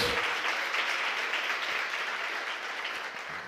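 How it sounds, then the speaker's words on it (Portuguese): A congregation applauds during a church service, sustained steady clapping from many hands at moderate distance that fades slightly toward the end. "Você pode aplaudir o Senhor?"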